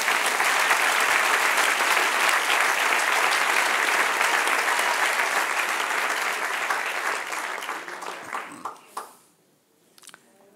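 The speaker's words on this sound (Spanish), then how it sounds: "Dale otro aplauso, Señor." Loud, sustained applause from a church congregation during a sermon, dense clapping that holds steady for about eight seconds before tapering off and dying out near the end.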